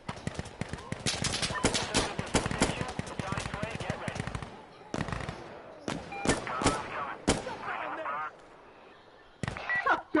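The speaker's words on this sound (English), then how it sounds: "That is a lot of gunfire." Dense bursts of automatic and single-shot gunfire from the game Insurgency: Sandstorm rattle almost nonstop, loud and close, with short pauses toward the end and voices talking over the shooting.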